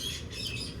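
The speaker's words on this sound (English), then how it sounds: "you could probably hear my parrots because my sliding glass door is open" Pet cockatoos call from outdoors beyond an open sliding glass door, producing faint, distant chirps and squawks over a noisy background with no talk.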